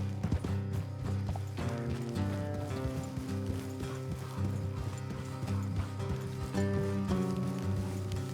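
Horses' hooves clip-clop steadily along a road in Red Dead Redemption 2, a continuous quiet rhythm of hoofbeats with mechanical rattling mixed in and no talk over it.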